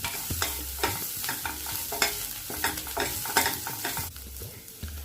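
A spatula stirs asafoetida with pumpkin in a frying pan, making repeated rhythmic scraping strokes over a light sizzle, close and fairly loud, with no talking.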